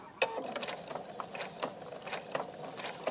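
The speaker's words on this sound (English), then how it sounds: "So I'm sewing over all those layers with my 1/4 inch stitch." A sewing machine stitches quilt binding through several layers with a quarter-inch seam, giving a quiet, steady rhythmic ticking of needle strokes with small irregular peaks.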